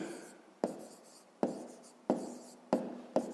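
A pen writes on paper in five quick separate strokes, close and quiet, with faint room tone between them and no talk.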